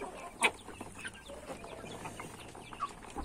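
Poultry cluck and peck at wet feed mixed with dewormer, with scattered short clucks and calls close by over a low steady background and no talk.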